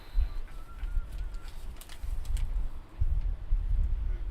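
A pigeon coos several times in low, soft bursts against faint background murmur, with a few brief higher chirps from other birds.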